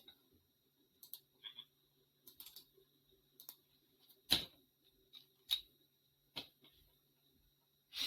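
Scattered clicks and taps from typing on a computer keyboard during a phone call, faint and irregular, with short pauses between keystrokes and one sharper key press midway.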